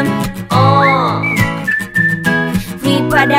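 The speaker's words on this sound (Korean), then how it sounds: "휘파람" A loud, close whistled melody with sliding pitches rises over steady instrumental backing in the acoustic version of a song.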